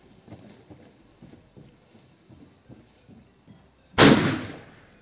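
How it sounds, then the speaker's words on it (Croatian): A single Eksploziv 2 firecracker from Jorget goes off with one loud, sharp bang that rings out and decays over about a second, after several seconds of quiet with faint soft knocks. "sljedeća petarda koju pucamo jeste eksploziv 2 iz Jorgeta"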